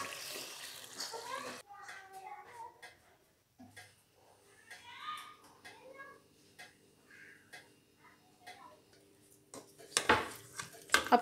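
Lahori chicken karahi being served out of the pan after the flame is switched off, with sparse metallic clinks and scrapes of a spoon against the pot among quiet stretches and a voice in the background.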